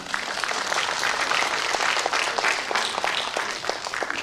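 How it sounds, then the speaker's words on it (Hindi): An audience at a political speech in Tripura claps densely and continuously, a loud wash of applause from many hands throughout. "दिल का बात किया तभी भी ताली दिया"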